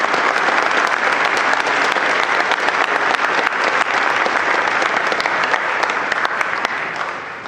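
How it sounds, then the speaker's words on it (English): An audience at a Veterans Day celebration applauds, a dense, sustained clapping that fills the whole clip at steady volume before tapering slightly at the end. "So if we can just give our last final applause for those folks."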